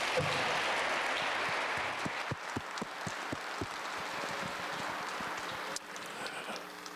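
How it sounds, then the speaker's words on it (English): Audience applause at a Hall of Fame induction ceremony, a steady wash of clapping from a large crowd that carries on for several seconds and eases slightly near the end. "Let's give him one more round of applause."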